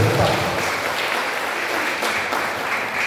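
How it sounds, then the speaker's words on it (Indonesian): Audience applause at a church choir competition announcement, dense continuous clapping from a crowd heard fairly close and steady throughout, with faint voices mixed underneath. "Tepuk tangan kita ini."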